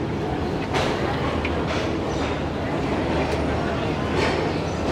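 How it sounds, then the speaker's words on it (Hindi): The Shalimar Express pulling out of Hyderabad Junction, a continuous low rumble and rattle of the moving train with faint clicks, and people talking over it. "पूरे 10:05 पर ट्रेन हमारी निकल रही है हैदराबाद जंक्शन से"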